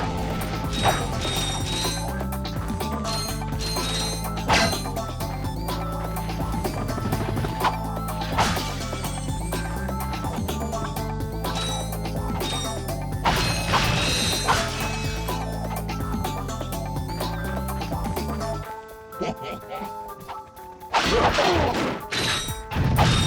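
Combat in Ratchet & Clank on the PS1, with repeated smashing and whacking hits from Ratchet's big wrench over steady game music. The clip ends in a louder burst of crashing effects.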